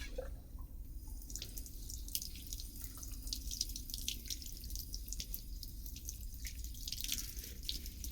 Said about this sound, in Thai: ล้างหัวชายเท้าก่อนนะคะ